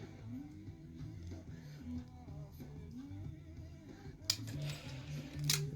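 Scissors snipping around the edges of a paper fire cutout for a custom Human Torch figure, quiet close cuts under low background hum, with a couple of sharper snips near the end.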